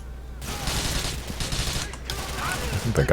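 Rapid gunfire from the video game Grand Theft Auto IV, a dense, continuous stream of loud overlapping shots lasting about three seconds with a brief dip midway and a sharper burst at the end.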